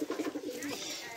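Pigeons in Sierra Leone, West Africa, give soft, rhythmic cooing in a quick series of low throaty pulses, close by and fairly quiet, with a person's voice faintly around them.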